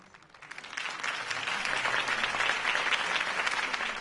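In the Batman Telltale game, a crowd at a Harvey Dent campaign rally applauds, the clapping swelling from a light start into a full, steady roar that holds to the end.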